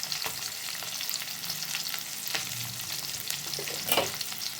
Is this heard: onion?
yes